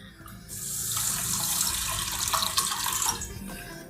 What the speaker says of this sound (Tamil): நல்லா ஒரு 2-3 டைம்ஸ் தண்ணி விட்டு நல்லா வாஷ் பண்ணிவிடுங்க.